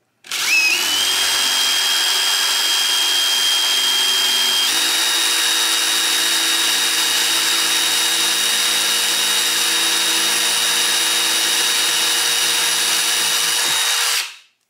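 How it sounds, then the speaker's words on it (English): A power drill bores holes in an Andis Master hair clipper blade being fitted to a Wahl clipper, giving a loud, steady high whine that runs about fourteen seconds with a slight pitch shift partway through before cutting off. "Let the drill just do the whole, let it do its own job."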